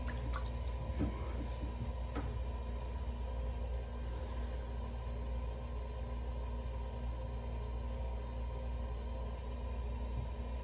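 Wet clay squishes and drips on a spinning pottery wheel during wheel throwing, a few soft wet splats early on over a constant low motor hum, close and quiet.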